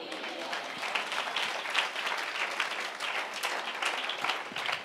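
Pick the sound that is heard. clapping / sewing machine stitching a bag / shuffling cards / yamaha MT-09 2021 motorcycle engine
clapping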